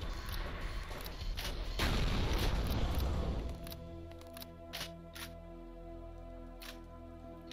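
Gunfire in the Doom video game: a dense, sustained barrage of booming shots for the first few seconds, then a lower drone with a few sharp, isolated cracks, heard alone without talk.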